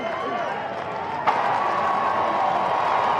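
A ballpark crowd at a Stanford vs Texas Tech baseball game makes a steady roar of cheering and clapping, with one sharp clap or crack near the start. The noise is loud and sustained, and faint talk sits underneath.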